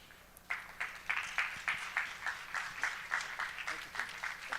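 Audience applause at a small business summit, quiet and somewhat distant, with rhythmic clapping pulses building after a brief quiet start and continuing steadily.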